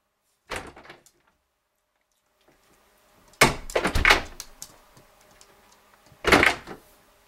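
A house door being opened and handled, with several separate bursts of clunking, latch rattling and knocking, loud and close, separated by silent pauses.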